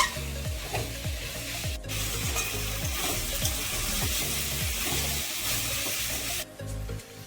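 Ghugni, a spiced dried-pea curry, bubbles and sizzles in a pan while a spoon stirs it in repeated scraping strokes, close up, with a steady frying hiss and brief sharp clatters, no talking.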